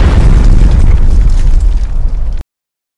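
A loud, dense explosion sound effect roars at full strength with heavy low rumble and crackling for over two seconds, then cuts off abruptly into silence.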